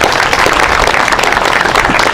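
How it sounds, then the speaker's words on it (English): Audience applause at a grand opening ceremony: dense, steady clapping from a crowd that sustains evenly throughout, close and loud, with no talking over it. "Let's give them a round of applause."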